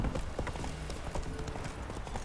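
Hooves of Geralt's horse Roach galloping in The Witcher 3, a steady, close clip-clop rhythm running throughout with a faint voice or two in the background.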